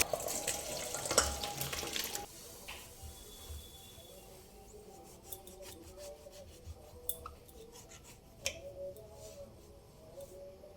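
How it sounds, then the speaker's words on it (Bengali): Water running steadily from a tap into a bucket, a faint continuous trickle under scattered light clicks and knocks, somewhat distant and low in level, no speech. "এইভাবে জল পড়ে পড়ে জলের অপচয় হয়।"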